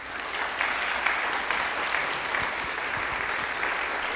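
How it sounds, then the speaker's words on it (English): An audience applauds for Mary Kunesh at a Minnesota State Legislature event, a steady wash of many hands clapping that stays loud and even for several seconds with no talk over it. "So a round of applause to Mary."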